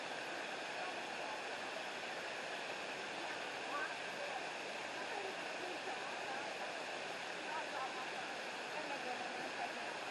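A waterfall roars in a steady, unbroken wash of noise that holds at an even, fairly faint level throughout with no clear voices on top.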